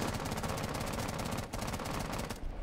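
Friendly fire in a tactical team shooter video game: sustained rapid automatic gunfire, dense and loud, rattling on without a break for nearly three seconds.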